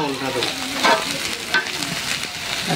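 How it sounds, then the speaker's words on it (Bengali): Steady close sizzle of rice grains frying in a hot pan for khichuri, with a couple of louder stirring scrapes cutting through the continuous crackle. "একেবারে ভাজা ভাজা করে নিলাম চাউলটা।"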